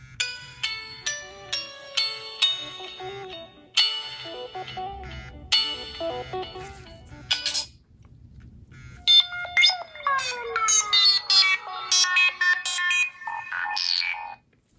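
A Nokia Asha 311 phone from 2012 plays a run of electronic ringtone melodies through its built-in speaker. Bright, loud, beeping phrases repeat in quick rhythmic bursts, then give way to a denser chiming tune.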